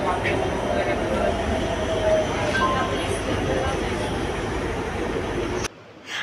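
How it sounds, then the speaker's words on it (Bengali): A metro train running in the distance gives a steady, broad rumble that holds for several seconds, then cuts off abruptly near the end. People talk over it. "দূরে একটা ট্রেন দেখা যাচ্ছে ওটাও মেট্রোই তো"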